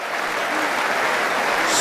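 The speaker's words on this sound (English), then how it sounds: "celebrate and applaud a famous victory for Terry Cutting against twice former champion Noel Burrows" A Waterloo crowd bursts into sustained applause and cheering after Terry Cutting's darts semi-final or final victory over twice former champion Noel Burrows, a dense, steady roar of clapping throughout.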